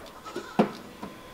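A goat on a goat farm lets out a short, close bleat in the middle, with a fainter second bleat shortly after and light background noise.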